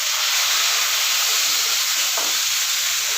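Pineapple chunks go into a hot pan for sweet and sour soya meat, giving a dense, continuous sizzle and hiss with a brief dip midway. No talking.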